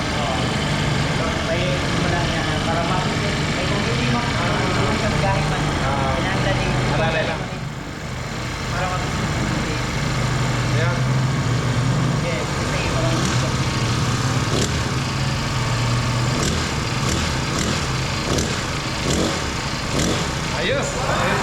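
A new grass cutter engine runs continuously with a steady, rough mechanical drone at moderate loudness, while people talk over it throughout.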